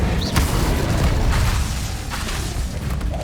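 Incendio fire spell cast in the Hogwarts Legacy video game: a run of booming, crackling fiery bursts with a sharp pop near the start, fairly loud and without any talk.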